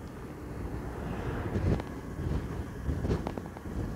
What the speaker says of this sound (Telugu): బస్సు వెళ్తుంటే గాలి ఎక్కువ తగిలేస్తుంది నాకు